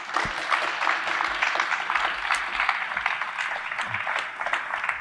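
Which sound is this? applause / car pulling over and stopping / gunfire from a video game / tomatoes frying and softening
applause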